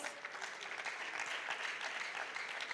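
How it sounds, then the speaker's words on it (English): Audience at a junior science and maths quiz national championship applauding a contestant school, steady dense clapping from a crowd, moderately distant and even throughout. "St. Joseph RCJHS. A round of applause."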